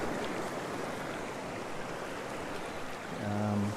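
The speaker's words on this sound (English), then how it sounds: "Some nice waves crashing in here now" Ocean waves break and wash steadily along the Hervey Bay shore at sunset, a broad continuous rush of surf that swells a little louder near the end, with a faint tonal hum entering at the close.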